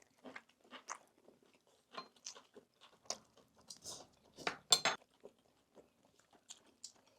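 Close, crunchy bites and chewing of Korean holiday food such as pan-fried yukjeon beef patties, in irregular loud bursts with short pauses between them and no talk.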